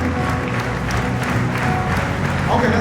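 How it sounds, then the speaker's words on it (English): A crowd at an MLK Jr. prayer service claps along to a song with sung voices, the handclaps blending into a dense, steady wash of sound throughout. "the first command that we have is a double clap like this"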